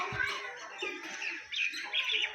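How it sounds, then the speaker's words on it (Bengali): A female pigeon in a loft gives repeated chirpy calls at close range, steady over a couple of seconds with a slight rise near the end. "এটা হচ্ছে মাদি পায়রা"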